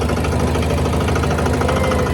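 A boat's engine drones loud and steady from close by on Dumboor Lake in Tripura, a constant low rumble with no talking.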